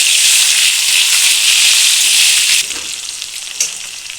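Chopped onion fries in oil in a pan, sizzling loudly and evenly, then quieter after the mixture is stirred, with a brief scrape near the end.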